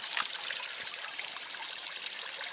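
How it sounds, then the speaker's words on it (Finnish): Water trickles steadily from a garden fountain outdoors in spring, a continuous close, even splashing and dribbling with no talk. "Mutta tämmöinen tämä meidän suihkulähteemme on nyt."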